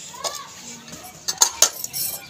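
After an iftar meal in a Punjabi village home, metal dishes and cutlery clink and clatter in a few sharp, close knocks, with faint voices in the background.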